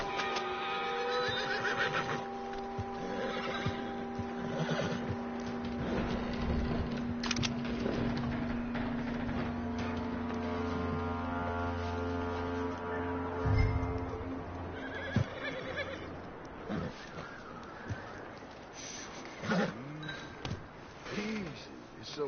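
A horse whinnies and snorts in the video game Red Dead Redemption 2, over a steady game-like music bed, with some speech and a few hoof and movement sounds near the end.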